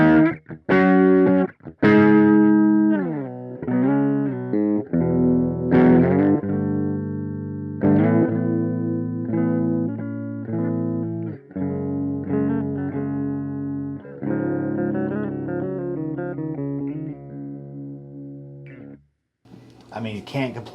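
Electric guitar played through a Donner Cyclops amp on its UK 800 plexi-style setting, with a run of strummed chords and riffs that ring out loud and distorted, each followed by brief pauses, over about twenty seconds.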